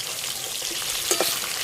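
Sea fish fry in a pan of hot oil, a loud steady sizzle with brief stirring scrapes near the end, close and with no voices.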